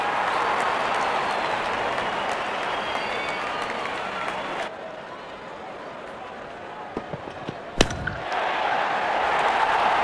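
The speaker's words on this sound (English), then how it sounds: "Wonderful sound of the bat." Crowd applause and cheering roar steadily at a T20 cricket match between India and Sri Lanka after a batsman hits a six, with a sharp loud crack near the end and the crowd swelling again afterward.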